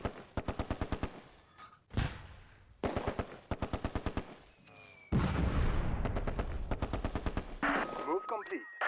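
Vickers machine gun firing covering bursts in the Close Combat war game, sounding as rapid rhythmic volleys separated by short pauses, mixed with booms and other battle noise; loud and close.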